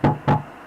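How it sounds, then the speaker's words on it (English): Two firm knocks on a wooden door inside a house in The Walten Files horror game, close and loud, spaced about a quarter second apart, then quiet. "the spirits knock on doors inside of Felix's house and call out to him"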